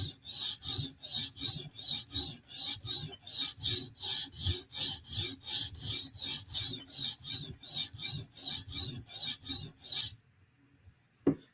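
A Chris Reeve Sebenza knife blade is drawn across a stone on a TSProf sharpener in about twenty-five even, rhythmic rasping strokes, close and clear, before stopping abruptly.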